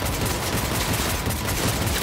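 Rapid, dense gunfire from a pistol in Cyberpunk 2077 runs continuously for the whole brief moment, loud and close, with shots blurring together over heavy combat noise and no talking.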